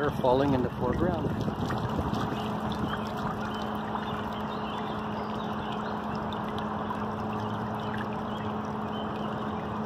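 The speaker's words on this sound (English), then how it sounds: "and water falling in the foreground." Water falls in a park fountain as a steady, close wash of noise, with runners in the background and a brief voice at the very start.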